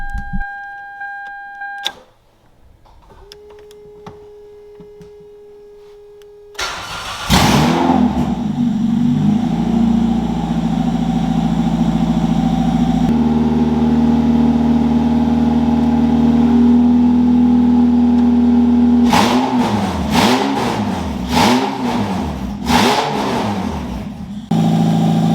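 A Toyota 2ZZ-GE engine swapped into a Lotus is cranked and started after some brief whirring, then idles loudly and steadily before several sharp revs rise and fall near the end, with no speech.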